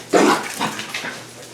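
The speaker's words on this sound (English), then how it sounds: "my dogs are going crazy, running all over the floor here" Dogs scrambling and making noise across an indoor floor, a loud burst followed by a couple of softer bumps and scuffles, with no talking.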